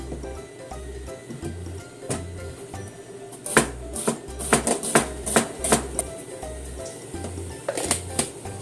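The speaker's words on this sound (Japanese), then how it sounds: "薄切りします。" A kitchen knife thinly slices bitter melon (goya) for a salad, a series of crisp cutting taps on a board in quick irregular runs, close and moderately quiet, with a low hum underneath.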